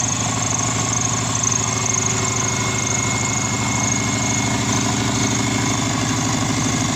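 A Subaru Forester SG9 with its EJ255 turbo engine with 87,000 miles runs at a steady idle, a loud, close, even rumble with a constant low throbbing pulse and no talk over it.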